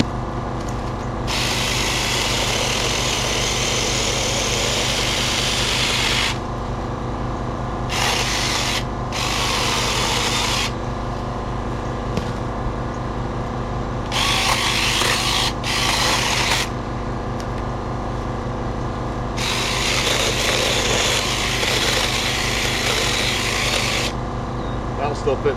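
A Taranzy chainsaw cutting through thicker wood outdoors, a loud steady engine drone that repeatedly rises into harsher cutting bursts and drops back to idle over about twenty-five seconds.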